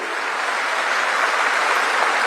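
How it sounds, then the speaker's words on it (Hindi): Audience applause fills an auditorium at a political gathering, a steady dense wash of clapping from many hands that holds level and loud throughout without any voices. "जोर से जरा ताली बजाइए राम बहादुर जी के लिए।"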